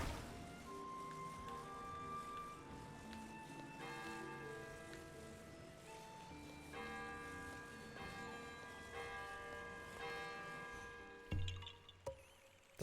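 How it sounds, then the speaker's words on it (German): A town bell in Zelda: Tears of the Kingdom rings several times in a row, clear resonant tones that overlap and decay, followed by a few brief clunks near the end. "Hat die Glocke ein paar Mal klingen lassen"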